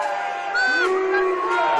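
Stadium crowd at a rugby league semi-final between Keighley Cougars and Rochdale Hornets, a broad roar rising partway through while a commentator talks over it.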